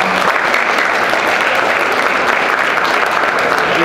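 Loud, dense applause from an audience greeting the Mayor of Glendale at a community event, steady clapping throughout with no break.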